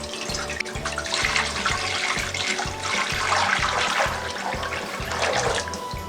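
About four cups of water pours steadily from a pitcher into a pan for several seconds, a continuous splashing rush under a low rhythmic hum.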